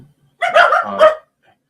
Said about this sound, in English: Of course, my dogs do this every time.